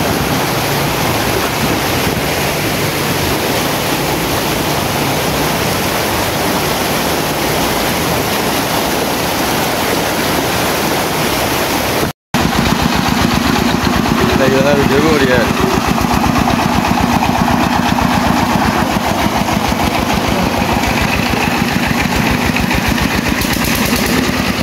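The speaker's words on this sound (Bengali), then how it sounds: "ধাক্কা করে করে মোটরসাইকেল পার করছেন।" A motorcycle is pushed by hand through waist-deep floodwater on a flooded road, with loud continuous water churning and an engine running throughout, windy and rough, while people talk over it.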